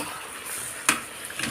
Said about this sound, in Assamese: মাংসখিনি এতিয়া ভালদৰে লৰাই দিছোঁ